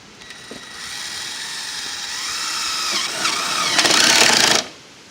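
A power drill driving a screw into a metal roof on a mobile home, one continuous whirring run that rises in pitch and loudness for a few seconds before stopping abruptly, close and alone.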